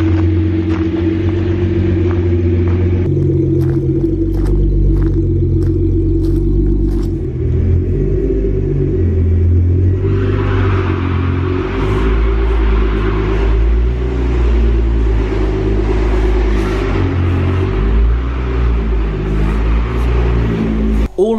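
Nissan GT-R built to Litchfield LM1000 spec with 1000 bhp, heard from inside as a loud, steady deep engine drone with rising revs and boost under way, continuous throughout, with no voices over it.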